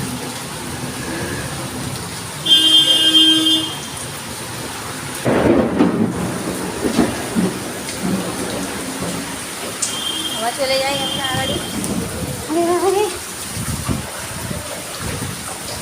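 Heavy monsoon rain pours over a flooded lane in Ram Thakur Colony, Jadavpur, Kolkata, with rolling thunder rumbling loudly midway; a person speaks briefly and other voices and a passing vehicle sound faintly.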